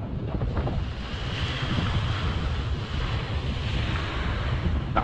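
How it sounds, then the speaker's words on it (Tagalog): Strong sea waves surge continuously, with gusty wind buffeting the microphone loudly throughout and no voices. "Lakas ng alon."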